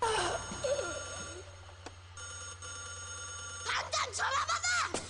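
Telephone bell ringing as a horror radio sound effect, a repeated trilling ring that plays under and between voices talking.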